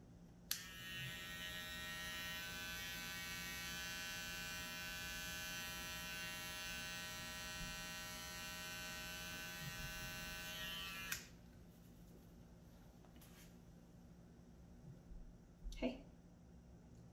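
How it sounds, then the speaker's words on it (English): A small electric clipper trims the fine hair in the corner of a sensitive poodle's eye, giving a steady, even buzz for about ten seconds. It then cuts off, leaving faint rustling and a brief bump. "So another thing I do with the mini clipper is I go right into the corner of the eye"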